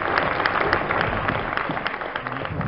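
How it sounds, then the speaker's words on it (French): Warm audience applause at a loto (bingo) evening, many hands clapping in a steady, dense patter at moderate volume, continuing without pause. "on peut les applaudir aussi chaleureusement"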